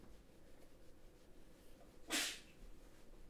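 A single sharp sneeze bursts out over a faint background hum during end credits of the game Borderlands, short and fairly close, with no talking around it.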